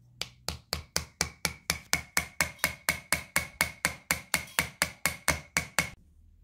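Hammer striking a chisel against a rock while digging for gems, about twenty-two sharp, evenly spaced metallic blows in a steady rhythm, close and clear with no talk, then stopping.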